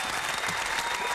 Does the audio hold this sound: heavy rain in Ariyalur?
no